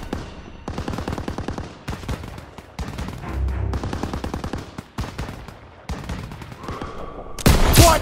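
Sustained covering fire in Call of Duty: WWII during a French S.O.E. mission in Paris: steady rattling bursts of rifle and machine-gun fire in repeated volleys, loud and continuous, ending in a sharper blast.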